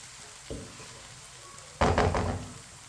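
Garlic and onion cook in a pan with a low sizzle, broken by a short knock and then a louder burst of frying and stirring near the end, close by.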